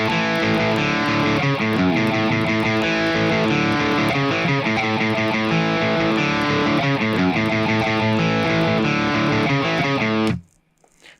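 A distorted electric guitar plays the intro riff, quick picked notes and chugging chords, loud and steady, stopping abruptly near the end.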